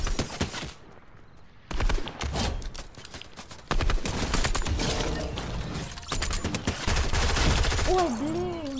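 Bursts of assault rifle fire in Fortnite Battle Royale, rapid clattering volleys that start and stop in several loud clusters, with mechanical clicks between and a brief voice near the end.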